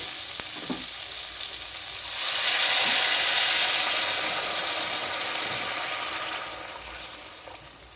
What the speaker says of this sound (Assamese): এতিয়া এইখিনি টাইমতে আমি ইয়াতে গৰম পানী দি দিম।